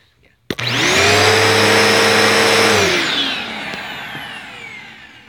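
An upright Power Track vacuum cleaner starts abruptly with a loud, harsh, chainsaw-like whine. It holds for about two seconds, then winds down and fades while its brush rolls stay barely audible.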